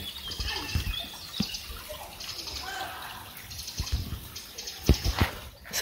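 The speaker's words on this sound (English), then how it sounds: "birds singing in the tree, water trickling in this brook" A small brook in Middle Saxony, Germany trickles and splashes softly beside a path. Scattered, faint birdsong rises from nearby trees, with a few sharper splashes toward the end.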